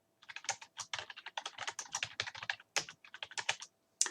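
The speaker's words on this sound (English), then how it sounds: "here's where I would type in my example program" Quick, uneven bursts of close computer keyboard typing as a program is entered in the Python IDLE editor, crisp key clicks with short pauses between runs.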